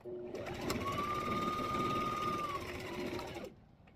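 Sewing machine stitching a fabric tote bag: a close, steady motor whir with rapid needle rhythm that starts abruptly, runs about three seconds and cuts off, with no voices.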